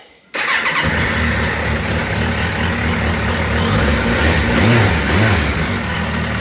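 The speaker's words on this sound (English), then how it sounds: "I'll just start it up so you can hear it going" A Suzuki RF900 motorcycle engine cranks and catches after a brief silence, then settles into a loud, steady, close-up running rumble with slight throttle swells near the end.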